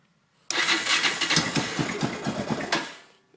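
A Yamaha ATV, a Blaster or Raptor 660 quad, cold-starting: after a short quiet moment the engine catches abruptly and runs as a loud, rough, close-up burble with uneven firing pulses for about two and a half seconds before cutting off.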